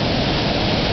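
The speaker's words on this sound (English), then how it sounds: "The swollen creek cascading down in this froth of white." Brice Creek, swollen with winter runoff, cascades down in a froth of white water. It makes a steady, loud, close rush of broadband noise with no other sound above it.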